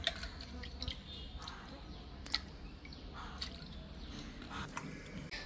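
Fish being washed by hand in a container of water, with quiet intermittent splashes, drips and squishy sloshing at close range, soft and irregular throughout.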